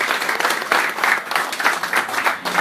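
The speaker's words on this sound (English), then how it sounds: "I want to give Rudy a round of applause for being our speaker." An audience at a meeting claps for a speaker, giving a brief, fairly close round of applause with an uneven, pulsing texture.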